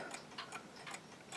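A Stuart chiming mantel clock ticks in a steady, even rhythm, faint and close, with soft background hiss and no other sounds.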